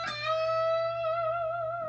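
A single electric guitar note is bent upward and held with a steady, wavering vibrato, clear and alone, ringing for under two seconds.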